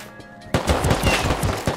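Burst of rapid gunfire erupts loud and close in the survival game Rust, a dense stream of shots following a quieter lead-in, with no talking.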